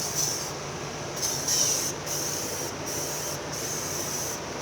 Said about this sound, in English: Spray some disinfectant spray on it real quick.